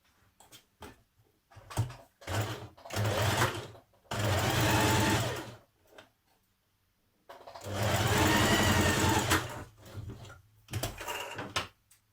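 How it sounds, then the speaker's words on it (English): A sewing machine stitches dress fabric for a Burda 6320 dress in several separate runs: short stuttering bursts, then two long steady whirring stretches with quiet pauses between. "So we're going to stitch it here."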